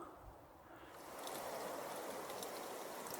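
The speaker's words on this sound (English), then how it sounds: "There's water dripping from the rock." Water drips and trickles from a rock bluff beside a railway line above a lake. A soft, steady stream-like patter stays faint and distant, and it grows a little fuller after the first second.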